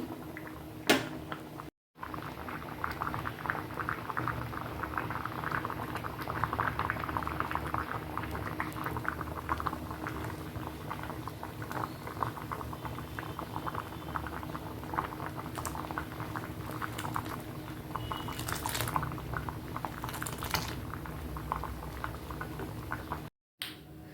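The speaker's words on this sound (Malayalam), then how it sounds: "ഗ്യാസ് ഓഫ് ചെയ്ത് കൊടുക്കാൻ തിളച്ചും കൊണ്ടേ ഇരിക്കും" A curry of ash gourd, mango and drumstick boils in a pot on a gas stove, giving a quiet, continuous bubbling and gentle patter that stays steady throughout, with a couple of brief knocks.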